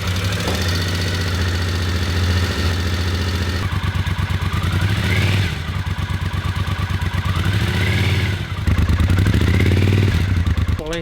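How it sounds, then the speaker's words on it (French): A motorcycle fitted with a British Customs Shotgun slip-on exhaust idles loudly up close with a deep, lumpy thump, then is revved several times in rising and falling sweeps. "je vais partir la moto et on va faire un avant-après pour comparer le son"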